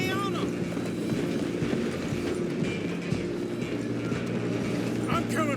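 Steady rumble of a moving train in Red Dead Redemption 2, continuous and close with rhythmic rail clatter, mixed with hoofbeats and brief game voices over it.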